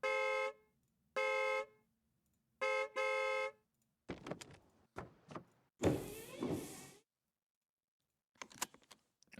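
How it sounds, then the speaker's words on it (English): Car horn sound effects from a royalty-free effects library: three separate sustained honks, loud and clean, then an assortment of unrelated clattering vehicle and utility effects. "Honks."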